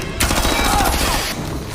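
Rapid automatic gunfire bursts loudly and continuously as a captain and his men shoot at fleeing escapees in a zombie film, dense overlapping shots with no voices.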